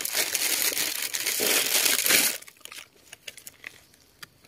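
Wild mushrooms, including hed na lae and hed kor dae, are pulled from the ground by hand in a forest. A dense crunching, crackling rip lasts about two seconds, then fades into a few scattered soft clicks and rustles.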